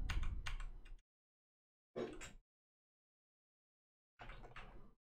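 Computer keyboard keys pressed to enter a shortcut on a trading chart platform, three short bursts of clicky taps separated by pauses, close and fairly quiet with no talking.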